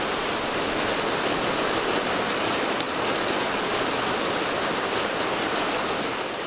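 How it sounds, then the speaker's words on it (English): Water rushing steadily through a stream weir used for runoff monitoring, a constant broadband hiss and churn at close range with no pauses and no talk. "a weir is just a way in which to monitor the water that's flowing through the weir"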